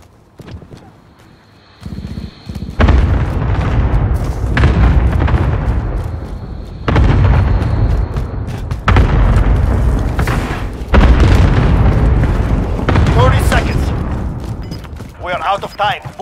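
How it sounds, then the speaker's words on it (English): Cluster strike in Call of Duty Modern Warfare, a video game: a long sequence of heavy, booming explosions in repeated waves, loud and close, with rumbling between blasts and voices talking over parts of it. "Allied cluster strike incoming."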